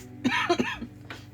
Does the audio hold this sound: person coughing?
yes